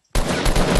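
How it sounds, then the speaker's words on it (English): Rapid gunfire in a Fortnite Battle Royale match, a sudden close, loud burst of shots continuing without pause. "Oh, we're getting shot."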